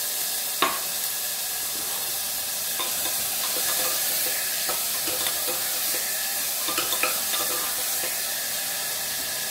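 Garlic, tomato and green chili frying in a home kitchen pan, a steady soft sizzle with occasional stirring clinks and light scrapes running through the whole stretch.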